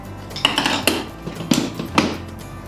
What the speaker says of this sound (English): When you hear that click, you know you've done a good crimp.